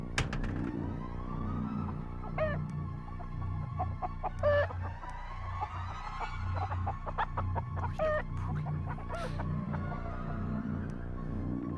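A chicken clucks repeatedly in a film scene, sharp bursts of clucking over a low rumbling score-like bed, moderately loud, with no talk.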